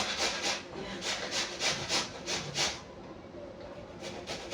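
Cabbage for coleslaw is rubbed against a hand grater in about eight steady, rhythmic rasping strokes, close and fairly loud, before the scraping stops.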